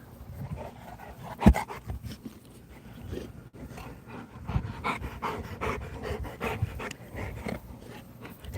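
A large mastiff-type dog at a Presa breeding kennel pants close by in a steady, rapid rhythm, with one sharp knock early on and faint whimpers mixed in.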